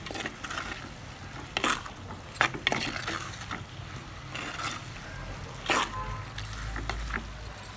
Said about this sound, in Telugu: మసాలా మాడుకోకుండా వేయించుకోవాలి.